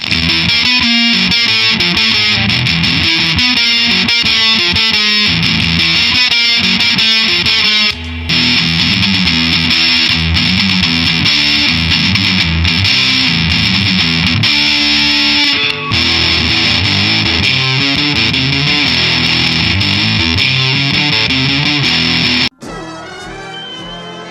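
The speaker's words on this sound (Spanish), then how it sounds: "Suenan muy bien las dos, la verdad que se nota que son el mismo perfil de guitarra." Epiphone Riviera Custom P93 and Casino electric guitars play with heavy distortion, a loud continuous stretch of driven chords and riffs with brief breaks, ending in an abrupt cut to quieter sound.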